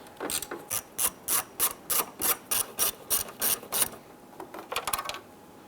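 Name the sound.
ratchet loosening 7mm screws on Ford Explorer grille panel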